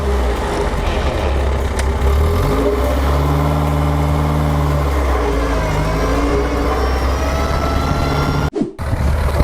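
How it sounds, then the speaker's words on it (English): 1936 Aston Martin Red Dragon Grand Prix car, its engine roaring loud and close, idling roughly before revving up through clear rising tones, then a brief sharp cut near the end. "1936 Aston Martin Red Dragon, mate"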